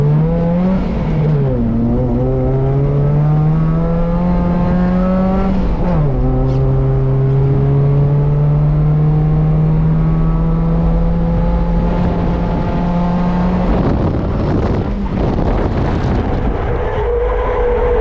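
A 130whp Volvo 740 wagon's engine loud and close, revving hard with rising and falling pitch and gear changes through a backwards drift entry, with tyre scrub and a burst of noise near the end.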